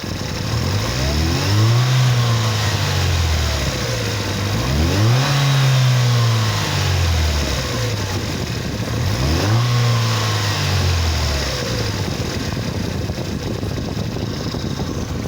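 Supercharged Mercedes 200/230 Kompressor engine with its MAF sensor unplugged, revved three times in even, rising and falling sweeps over a steady idle, loud and close, with no talk.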